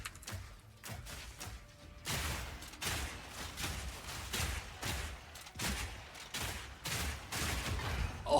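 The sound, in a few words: grenades from a crossbow exploding, video game Path of Exile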